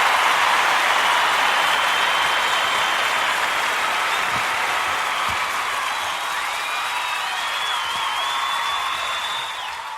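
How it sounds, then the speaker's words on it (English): Studio audience claps steadily for several seconds, close and full, tapering slightly toward the end, with faint whistles in the background. "Even round of applause as well."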